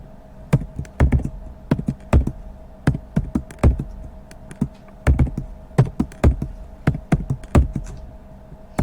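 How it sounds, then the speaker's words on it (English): Calculator keys tapped in quick, uneven bursts of sharp plastic clicks during a math homework calculation, close and fairly loud, with no talking. "You're just typing it into the calculator once you rewrite it."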